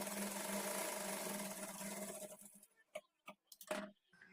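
A sewing machine stitches a blouse with a steady mechanical whirr for a couple of seconds, then stops, followed by a few short bursts of stitching.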